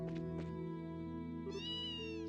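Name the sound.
cat meowing in a video game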